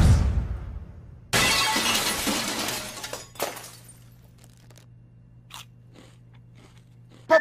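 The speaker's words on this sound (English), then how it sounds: "Potato chips!" Potato chips crunch in one loud, close shattering bite, followed by a few quieter chewing crackles that fade into near silence.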